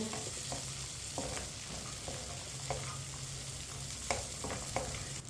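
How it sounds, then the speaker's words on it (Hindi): Vermicelli roasts in a pan for sweet seviyan while a spoon stirs it, making a close, continuous frying sizzle broken by soft scraping strokes, with no voices. "इसे 2 मिनट के लिए चम्मच लाते हुए भून लेंगे तीनों चीज़ों को"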